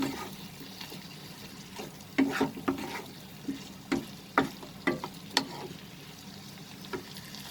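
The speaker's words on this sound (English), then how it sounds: "Saute it along with the spices." Prawns sauté with spices in a pan for a prawn and potato curry, a soft steady sizzle broken by a run of clicking spoon stirs and taps on the pan in the middle.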